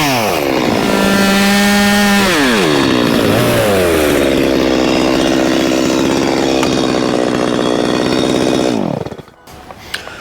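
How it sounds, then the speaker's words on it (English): A chainsaw cuts off excess wooden posts, loud and close, its engine revving up, settling into a steady high drone while cutting, then winding down abruptly. "I'm going to grab the chainsaw and set up my ladders and go around and cut all those off."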